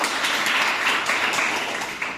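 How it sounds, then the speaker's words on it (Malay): A classroom of students giving a quick round of applause, dense rapid clapping from many hands close by, steady and loud for a couple of seconds with no talking. "Itu berikan tepukan cepat"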